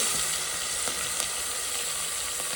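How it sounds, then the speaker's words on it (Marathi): Mutton rubbed with turmeric and salt sizzles loudly in oil over a village wood-fired stove, a dense, steady frying hiss with faint crackles throughout. "आणि बघा मम्मीनं हळद मीठ लावलेलं आहे ना, तेलात पण टाकले आता हे मस्त."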